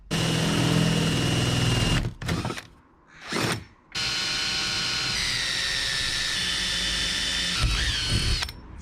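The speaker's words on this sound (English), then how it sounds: "what we're doing here is drilling into a piece of wood the other side" A power drill whines loudly and steadily while drilling into a piece of wood, pausing twice briefly, then continues boring with a high mechanical buzz, up close.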